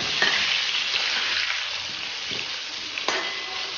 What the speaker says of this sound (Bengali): এরপর ডুমো ডুমো করে কেটে রাখা আলু ওই তেলের মধ্যে দিয়ে ভালো করে ভেজে নেব।